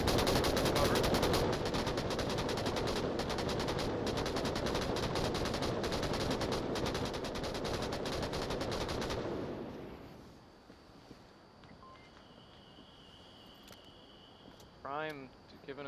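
Sustained PKM machine gun fire from an Onward match, loud dense bursts running continuously for about nine seconds before cutting out to quiet ambience, with a brief rising mechanical sound near the end.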